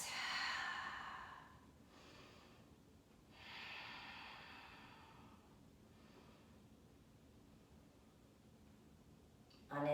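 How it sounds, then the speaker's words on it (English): Slow, deep breaths during a yoga flow held in Virabhadrasana 2 (Warrior II), with a breathy exhale at the start and another a few seconds later, soft and close over a quiet room. "3 deep breaths."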